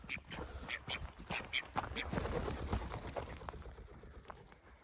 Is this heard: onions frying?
no